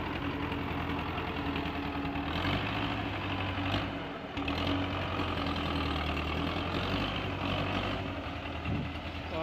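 A Belarus 510 tractor engine idling through a loud silencer, a steady, close, throbbing diesel rumble that briefly dips near the middle before resuming.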